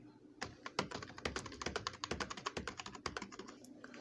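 Rapid typing on a computer keyboard while names are entered into a Microsoft Excel spreadsheet, a dense run of close, crisp key clicks with no talk.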